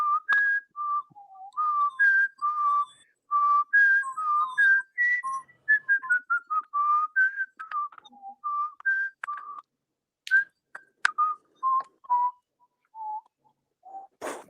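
Whistlers carry the Jeopardy theme as a clear, close melody of tuneful notes that keeps going in phrases for a while and then breaks into shorter, scattered notes, with no talking.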